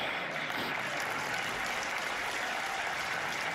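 An audience breaks into loud sustained applause, a dense continuous roar of clapping hands that stays steady throughout, close and with no talk over it.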